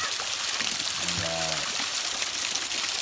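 Cold water pours and trickles at an outdoor washing spot, a continuous splashing stream with a brief, clearer pouring gush in the middle.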